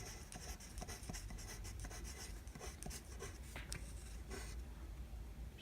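Pen or pencil scratches steadily across paper while a math equation is written out, a continuous run of short rubbing strokes, close but quiet.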